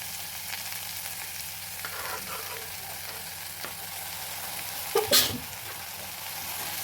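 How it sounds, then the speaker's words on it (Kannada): Vegetables frying in oil for a millet pulao, a constant sizzling hiss with faint stirring scrapes and one short sharp burst near the end, no speech. "ವೆಜಿಟೇಬಲ್ಸ್ ಎಲ್ಲ ನೀಟಾಗಿ ಆಯಿಲಲ್ಲಿ ಈ ರೀತಿ ಫ್ರೈ ಮಾಡ್ಕೊಳ್ಳೋಣ"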